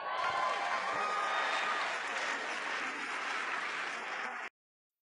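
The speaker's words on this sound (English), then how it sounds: "Here is the applause." Isolated crowd applause from a large conference audience, a continuous wash of many hands clapping at moderate level that cuts off abruptly near the end, leaving silence.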